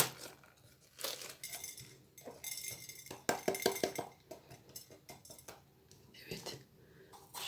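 A knife cutting and cleaning large peppers on a board, with scattered clicks, scrapes and light crinkling taps at close range, fairly quiet, no voices.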